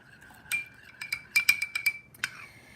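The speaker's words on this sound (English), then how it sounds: "I'm going to put 2 tablespoons of that in and give that a little stir." A spoon stirring white balsamic vinegar into a glass or metal bowl, giving a quick run of bright clinks and taps over about two seconds, close and fairly clear with a faint ringing tone underneath.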